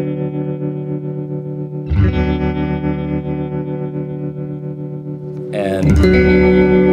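A Fender American Professional Telecaster rings out sustained chords through a swirling modulation effect with chorus-like shimmer and reverb, loud and close, a fresh strum entering near the end.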